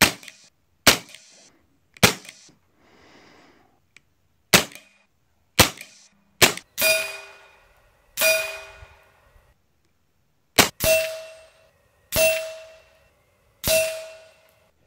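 Repeated sharp cracks from an FX Monsoon regulated semi-auto PCP air rifle firing 15 grain JSB pellets at 35 yards, about a dozen shots at uneven intervals, several followed by a ringing metallic clang of pellets striking a steel target.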